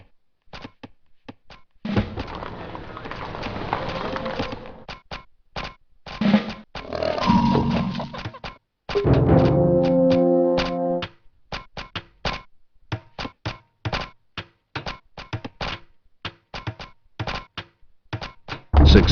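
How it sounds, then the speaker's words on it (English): Citizens construct a siege factory in the strategy game Rise of Nations, with repeated sharp knocking and hammering taps in irregular bursts, plus a short tonal chime in the middle. "Your citizens are now constructing a siege factory"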